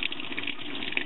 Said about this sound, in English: the amount of water that the washing machine puts in